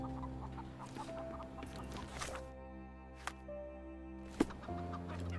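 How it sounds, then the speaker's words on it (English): A chicken in the Sherlock Holmes Chapter One video game clucks in short, soft bursts over steady background music, with a couple of sharp clicks standing out. "look at that chicken"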